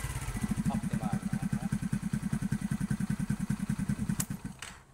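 A motorcycle engine with an air-screw carburetor, just tuned, revs and then drops back quickly to a steady idle with a loud, close, rapid chugging pulse before cutting off near the end.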